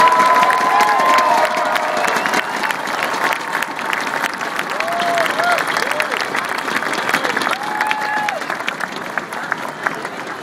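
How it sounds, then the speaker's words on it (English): Sustained crowd applause with scattered cheers fills the space at a Notre Dame football pep rally honoring the 2010 team's seniors, loud and steady throughout, with a few voices calling out above the clapping. "give a round of applause to our 36 seniors in the 2010 Notre Dame football team"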